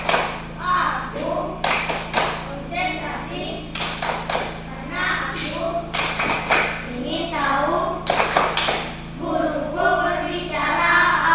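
Schoolchildren in a classroom doing a rhythmic concentration clap, bursts of group clapping and desk taps alternating with children chanting together, close and loud.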